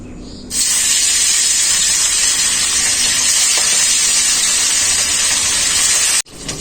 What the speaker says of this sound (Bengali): বাকি বাবদা মাছগুলো আমি একইভাবে ঢেকে ঢেকে ভেজে নেব